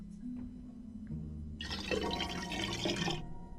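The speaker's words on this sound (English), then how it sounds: "I'll just pour in a bit of water." Water pours into a pot in the video game Black Mirror 3, a bright, splashing gush that starts abruptly after a quiet lead-in, runs steadily for about two seconds, then stops.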